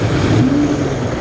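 City street traffic in Manila on a walk from Tramo bridge toward SM Ortigas, with a steady close wash of car engines and a vehicle revving or accelerating past in a continuous low rumble.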